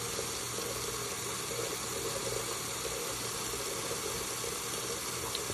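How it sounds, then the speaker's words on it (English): Jewelry gets a quick rinse under a running tap. The water makes a steady, continuous hiss that lasts the whole clip, close up with no talking. "Here, let me rinse it off real quick."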